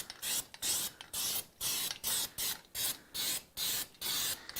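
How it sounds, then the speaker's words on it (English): Gasket spray hisses from an aerosol can in repeated short bursts, about a dozen quick sprays with brief pauses between them, close and fairly quiet. "If I can find a little safe spot to spray this stuff"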